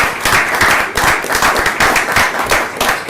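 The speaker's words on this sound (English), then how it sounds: "I think that deserves a round of applause." Audience at a county board of commissioners meeting applauds steadily, a dense, continuous clapping that holds at even loudness for about three seconds with slight swells.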